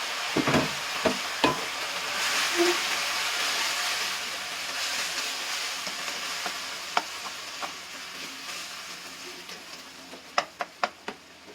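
Rice for kimchi fried rice is stirred and fried in a pan, giving a steady sizzle broken by sharp scraping clicks of the spatula, several clustered near the end, with no talking.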